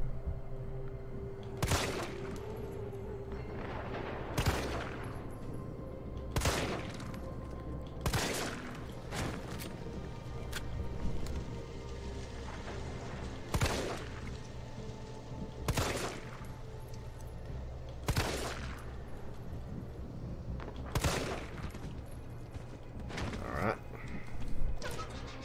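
Spaced single gunshots ring out at zombies in Resident Evil 3 Remake, about a dozen sharp, loud cracks at irregular intervals over a low ambient game backdrop.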